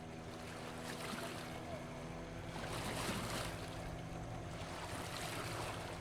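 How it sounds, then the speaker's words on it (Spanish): A speedboat running south along the Pacific coast, its steady engine drone and broadband rush of water and wind continuous and loud throughout, with no pause or change in pace. "abordamos una lancha rápida que va bordeando hacia el sur la costa del mar Pacífico"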